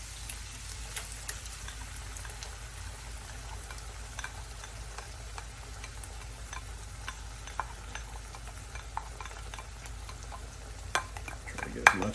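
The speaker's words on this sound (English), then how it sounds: "we're gonna go ahead and put in our red hot chili peppers. As well as our tomatoes." Red hot chili peppers and tomatoes fry quietly in a pan for an Amatriciana sauce, a soft continuous sizzle broken by small scattered ticks and scrapes of stirring, louder clatter near the end.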